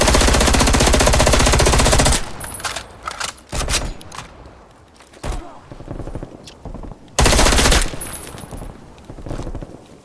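Automatic assault rifle fire in Black Ops Cold War, loud sustained bursts at the start and again near the end, with scattered single shots and quieter gaps between.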